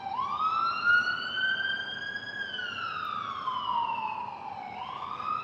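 An emergency siren wails in the distance, heard from a balcony, its tone rising and falling slowly over steady street background noise, fairly faint and without talk.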